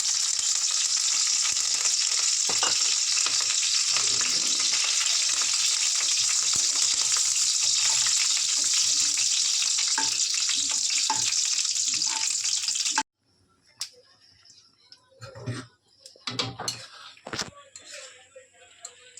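Dried red chillies and curry leaves sizzle loudly and steadily in hot tempering oil, a dense crackling hiss that cuts off abruptly, followed by scattered clinks and a few soft handling sounds.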